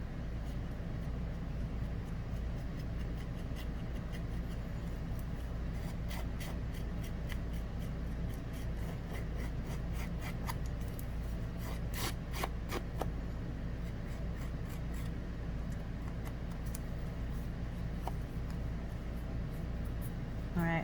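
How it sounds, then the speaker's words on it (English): Crisp snipping and rustling of paper being cut with large scissors, repeated irregular cuts close up over a steady low background hum. "And using the bigger scissors just gets it done quicker."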